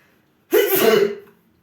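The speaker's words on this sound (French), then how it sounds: "je viens d'éternuer" A single sharp sneeze bursts out close up after a moment of quiet, a brief noisy blast that tails off quickly.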